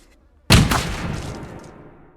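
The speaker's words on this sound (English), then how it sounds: "a gunshot rings out and one of the attackers is killed instantly" A single gunshot cracks out sharply after a brief silence, loud and close, then rolls away in a long decaying echo.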